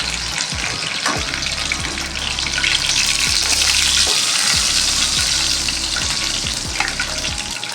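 Nargisi kofta fry in hot oil, a dense, steady sizzle with crackling pops and occasional clinks of a utensil stirring, close and continuous throughout.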